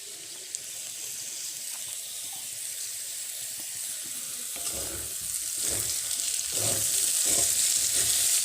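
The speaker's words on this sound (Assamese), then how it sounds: "এয়া মোৰ এতিয়া আলুখিনি ভাজি হৈ গৈছে আৰু এতিয়া মই ইয়াত এড কৰিম" Potatoes and mint leaves sizzle in a frying pan for an Assamese fry, a steady crackle that grows louder midway as stirring adds scraping and clattering against the pan.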